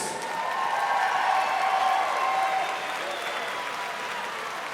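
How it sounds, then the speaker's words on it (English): At a 68kg combat fight event, a crowd applauds steadily, clapping swelling briefly and then holding at a moderate level throughout. "can we have a round of applause for these 2 fighters?"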